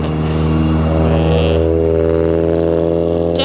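A Honda Civic revs and accelerates close by, a loud engine note with strong harmonics climbing steadily in pitch.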